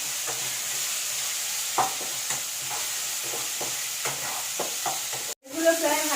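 Potato pieces fry in a pan with salt, turmeric and chili powder while a spoon stirs them in soft, irregular scrapes over a steady sizzle. Near the end a sudden louder burst and a brief gap cut across the frying.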